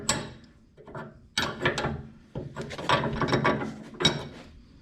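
Working on the suspension of a Bricklin SV1, a ratchet wrench tightens a nut with loud, close clicking strokes in several separate bursts, separated by brief pauses.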